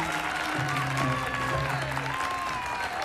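Applause for a boys' band after their performance, a steady burst of clapping heard under music and talk for a few seconds.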